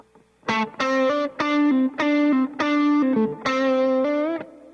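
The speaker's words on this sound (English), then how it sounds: "First tube screamer in the Klein-ulator loop. The Klon." An electric guitar through a Klon overdrive pedal plays a short phrase of sustained, gritty notes and chords, with brief pauses between them.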